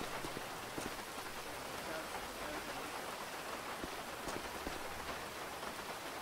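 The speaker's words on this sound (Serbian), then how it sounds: "Eto, kiša počela da radi." Steady rain pours onto a hard surface, a dense even hiss dotted with sharper drop impacts throughout, close and continuous with no voices.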